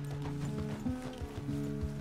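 Horse trotting in Red Dead Redemption 2, with steady clip-clop hoofbeats against a sustained tonal music bed, close and moderately loud throughout.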